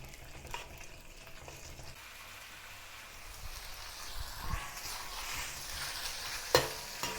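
Beef slices stir-fried in hot oil in a wok, a steady close sizzle with scraping stirs throughout and a sharp clank near the end.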